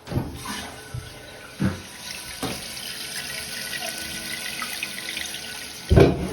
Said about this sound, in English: Now we can turn on the water and actually test it for any leaks